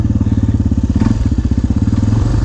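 A beginner dirt bike engine revs hard during a small wheelie, with a loud, close, rapid putting beat that rises and falls. There is no talk.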